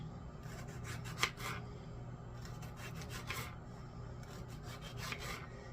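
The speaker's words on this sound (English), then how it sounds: "So we're going to try to get 12 slices of tomatoes out of these 2 tomatoes here." Knife slicing through two fresh tomatoes on a cutting board for tuna melts, several soft rasping cuts in short groups, close and quiet with no talking.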